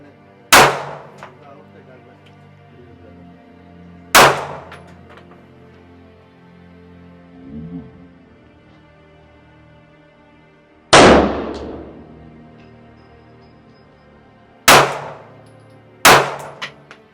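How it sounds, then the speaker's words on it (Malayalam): Five sharp, loud shots from a small handgun at a US shooting range, at irregular intervals, each cracking suddenly and ringing off briefly, with quiet gaps between and no talking. "വന്ന് ഒരു ചെറിയ തോക്കൊക്കെ എടുത്ത് വെടിവെക്കുക"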